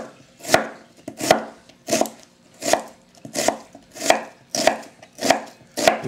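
A knife slicing through an onion on a cutting board for French onion soup, eight or nine steady, evenly spaced crisp cuts, close and clear with no talking.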